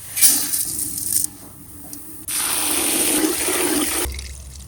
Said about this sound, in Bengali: আম্মু চাউলার ডাল ধুয়ে লই আইছে